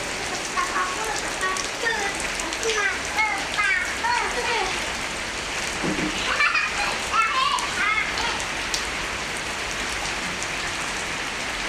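Steady rain patters outdoors while young children play and chatter in the downpour, their voices rising intermittently over the constant hiss of falling water.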